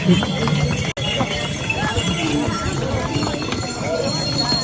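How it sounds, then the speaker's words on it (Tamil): Pack donkeys run along the Kedarnath mountain trek, their hooves clip-clopping in a quick, steady rhythm close by, with voices and trail bustle mixed underneath. "கழுதையை கூப்பிட்டுட்டு சும்மா ஓடவும் செய்வாங்க."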